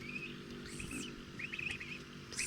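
Faint high-pitched peeping from goslings hatching, a few thin chirps scattered over a quiet background hum.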